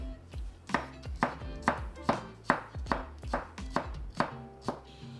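A knife chops crisply and rhythmically on a cutting board, about a dozen close, distinct strikes at a steady pace while vegetables are trimmed for coleslaw.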